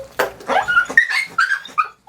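A matted dog held still for grooming whimpers and yips in several short, high, close cries of rising and falling pitch, loud and alone.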